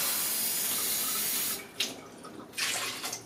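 Water pours steadily into a pot of rice with shredded coconut, a continuous rushing stream that then breaks into a few uneven splashes as the flow stops, close and fairly loud.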